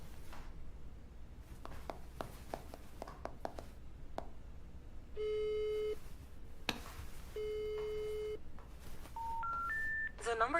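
Telephone tones when dialing an unavailable number: scattered taps and clicks, then two long steady busy-signal tones separated by a sharp click, followed by a rising three-note tone sequence, all moderately quiet and close.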